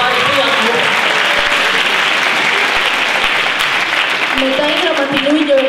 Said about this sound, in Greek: Να το χειροκρότημα τον Στέφανο